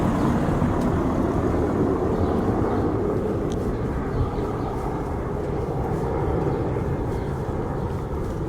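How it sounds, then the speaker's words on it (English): An EasyJet airliner climbs away over Can Pastilla, Mallorca, its engines a steady, distant low roar that fills the whole stretch at an even level. "EasyJet plane just going up into the sky over there."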